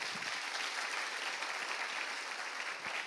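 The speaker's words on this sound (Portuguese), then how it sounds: "Pode aplaudir a ele, viu?" A church congregation applauds steadily throughout, a dense, even wash of many hands clapping at a moderate distance with no talk over it.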